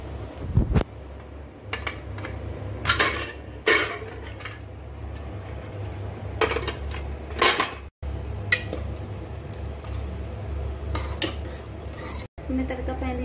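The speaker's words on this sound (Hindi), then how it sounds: "अब हम ढक्कन खोलेंगे।" A pressure cooker lid holding black chickpea curry is opened amid scattered metallic clinks and scrapes of pots and utensils, with a low steady background hum and no talking.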